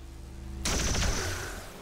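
An immediate lightning-hands pistol shot in XCOM 2 bursts in abruptly after a quiet moment, a loud single gunshot blast with a rattling crackle that rings and decays over about a second.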